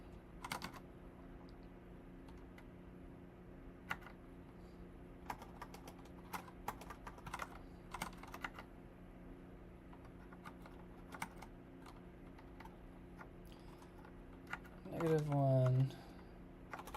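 Rapid, irregular keystrokes on a new computer keyboard, near and fairly quiet, clicking in uneven bursts over low room hum, with a brief voice near the end.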